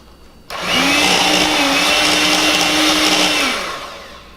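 An electric mixer spins up sharply and whirs at a loud, steady pitch for about three seconds while blending an almond butter fat bomb mixture, then winds down, heard close with no talking.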